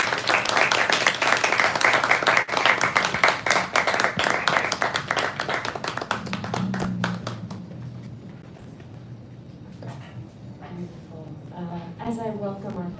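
Audience at a poetry reading gives the poets a round of steady, dense applause that fades out after several seconds, followed by a quieter room where a person speaks.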